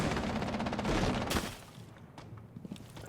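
Rapid gunfire from Rainbow Six Siege fills the first second and a half in a dense, loud burst of shots, then gives way to quieter scattered clicks and game noise.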